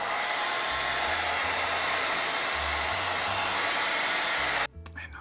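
A hair dryer blowing steadily close by to dry paint on a painting, a loud continuous whoosh that cuts off abruptly near the end.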